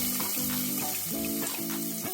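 Ginger and spices fry in hot oil with a steady, close sizzle, broken by faint tonal clinks and stirring.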